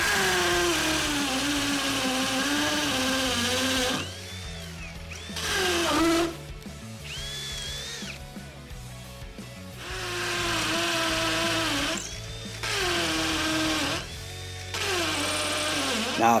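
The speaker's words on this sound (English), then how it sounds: "We're gonna go through some concrete right now." A TECCPO 20-volt 1/2-inch cordless drill driver, set to hammer mode on high speed, drills into concrete. Its motor whine runs loud and steady in several bursts separated by short pauses.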